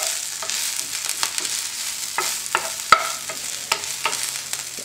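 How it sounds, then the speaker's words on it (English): Kale sautéed in olive oil in a pan, a close continuous sizzle punctuated by sharp scraping and tapping clicks of a utensil stirring the greens. "just keep stirring it. Make sure the kale never sticks to the bottom of the pan or starts smoking"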